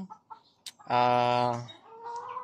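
A Darag native hen clucks on a farm in Silang, Cavite, giving a short rising cackle with softer clucks and bird sounds around it, close and clear.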